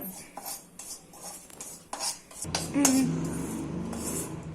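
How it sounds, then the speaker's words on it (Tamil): Spices being stirred and mixed in a metal kadai for homemade sambar powder, a run of scraping clinks and spoon knocks followed by a steadier rustling scrape, close and fairly loud. "நம்ம எல்லாத்தையும் ஒன்னா கலந்துக்கலாம், மேலையும் கீழுமா"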